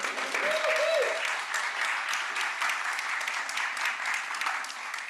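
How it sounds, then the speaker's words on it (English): Indoor audience applause at a gathering on affordable housing finance, steady dense clapping sustained through the whole stretch with a brief tonal sound near the start. "give them a round of applause"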